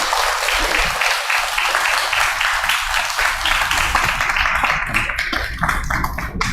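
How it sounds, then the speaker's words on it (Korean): An audience at a lecture event in a Buddhist temple gives a burst of sustained, dense applause, many hands clapping together loudly and continuously for several seconds before thinning slightly at the end. "큰 박수 부탁드리겠습니다"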